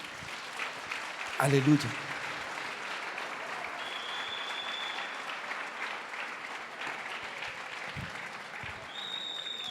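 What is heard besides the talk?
church congregation applauding as offering to Jesus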